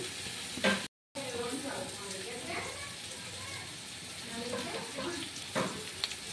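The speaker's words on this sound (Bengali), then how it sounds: "আমি তেলে ফোড়ন দিয়ে দিয়েছি কালো জিরা শুকনো লঙ্কা।" Nigella seeds and dried red chilies sizzle in hot oil with a constant crackling hiss, broken by a brief gap and a few utensil clinks.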